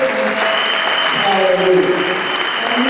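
A church congregation applauds and cheers during a worship service, dense sustained clapping mixed with voices and shouts filling the room throughout.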